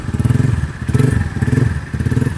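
A motorcycle engine with an aftermarket chicken pipe exhaust idles up close with a deep, lumpy, pulsing exhaust beat that throbs in short uneven bursts.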